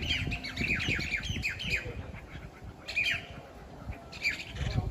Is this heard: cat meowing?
no